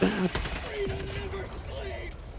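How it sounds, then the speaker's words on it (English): Shotgun blasts in the game Helldivers: a quick cluster of sharp, loud bursts in the first half, followed by squelchy effects and laughter and chatter from players. "Like I saw shotgun blast coming outside the body"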